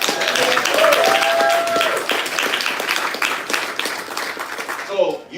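Audience applause at a live concert event, a dense wash of clapping from a crowd mixed with cheering voices, loud and sustained before thinning out near the end.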